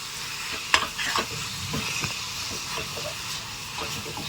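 Grated coconut fries in about 100 grams of hot ghee as it browns, giving a steady sizzle broken by scraping stirring strokes close by.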